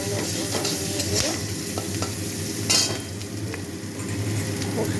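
Ridge gourd peels frying with turmeric in a hot pan, a constant close sizzle broken by sharp scraping strokes of a stirring spatula, one especially bright scrape near the middle.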